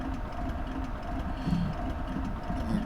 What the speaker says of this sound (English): we have an engine failure now. Let me try and restart the engine.